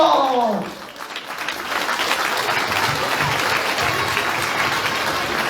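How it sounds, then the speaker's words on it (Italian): Audience at a children's carnival festival show breaking into steady applause after a brief voice, a broad continuous wash of many hands clapping, moderately loud and sustained. "Uscite voi fuori che prendete l'applauso."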